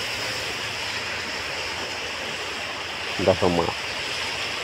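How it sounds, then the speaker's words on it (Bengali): A strong river current rushes over a rocky bed, a steady broadband wash of water filling the scene throughout, with a short burst of speech briefly rising over it near the end. "এখানে জলের খুব টান আছে এই জায়গাটাতে, কারণ এখানে পাথরের পরিমাণটা একটু বেশি আছে"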